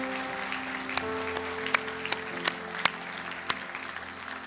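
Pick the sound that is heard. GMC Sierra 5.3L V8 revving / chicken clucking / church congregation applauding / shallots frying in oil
church congregation applauding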